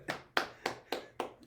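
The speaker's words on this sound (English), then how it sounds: "more applause, real life applause." Five sharp hand claps from one person, close and evenly spaced, with no voice over them.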